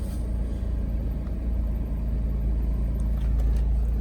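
A supercharged Chevrolet Impala SS backs up slowly, its engine a low, steady rumble close by with no voices over it.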